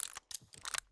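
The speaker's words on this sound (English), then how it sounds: "Disarming the bomb." Bomb defusal in Call of Duty: Vanguard multiplayer, heard as a quick series of mechanical clicks and ratcheting clacks in three or four short bursts, close and crisp.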